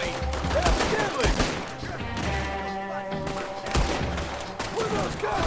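Gunfire in Red Dead Redemption 2 during a shootout: repeated loud bursts of shots and a thudding fusillade, rising and falling over a busy background with voices mixed in.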